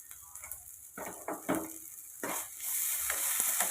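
Frying in a pan with turmeric and salt added, a quiet sizzle broken by soft stirring scrapes, the sizzle growing louder and steadier toward the end.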